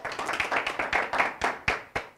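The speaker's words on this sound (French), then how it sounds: "85 points pour Wilfried, on applaudit grandement." A small group at a Saturday event applauds a winner's score, a quiet, brief run of clear hand claps at a quick, irregular rhythm with no talk.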